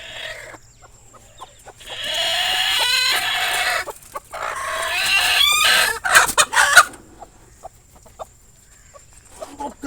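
Chickens cluck and a rooster crows nearby, with repeated squawks and a burst of loud calls that cut off abruptly, leaving quiet.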